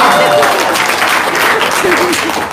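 Loud applause from an audience at a testimonial gathering, a steady rush of many clapping hands with voices talking and calling out over it.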